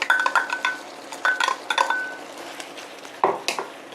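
Metal utensils clink and scrape against a pan in quick bursts while zucchini and garlic are stir-fried over high heat, with a few sharper knocks near the end.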